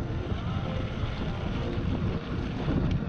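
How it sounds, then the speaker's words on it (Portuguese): Strong wind buffets the microphone on a road during a mountain bike ride, a constant low roaring rumble filling the whole stretch, loud and unbroken. "Vocês viram o tanto que tá ventando."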